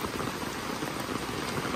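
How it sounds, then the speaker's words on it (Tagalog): Heavy rain pours steadily during a typhoon in Bulakan, Bulacan, Philippines, a dense continuous hiss of drops hammering a surface close by, with no break or voices. "Grabe tong ulan na to."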